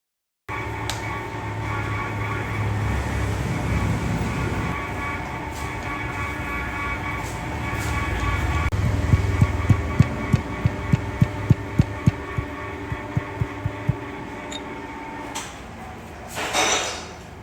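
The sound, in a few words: swivel head milling machine operating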